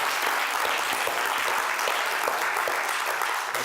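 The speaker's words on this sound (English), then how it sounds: "Give them a round of applause" Crowd applause at a stage hypnosis show, a full, steady round of clapping from many people, loud and unbroken throughout with no voices on top.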